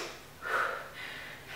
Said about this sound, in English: Here come the sniffles again.